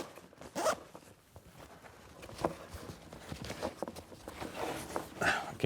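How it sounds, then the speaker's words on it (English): A backpack zipper is pulled closed in several quick rasping strokes, close and fairly loud, with light handling rustle between the pulls and no talk. "Zip it all the way up there,"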